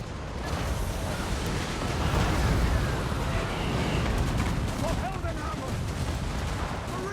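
Hell Cannon artillery in a Total War: Warhammer 2 battle produces dense, rumbling booms and crackling gunfire beneath an ongoing battle roar, with a voice speaking over the din.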